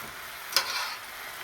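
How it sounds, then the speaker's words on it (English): A brief hissing sizzle of pappardelle frying in a saute pan, with a quick sharp burst near the start that settles into a soft, steady fry. "Look at that yellow that's frying already."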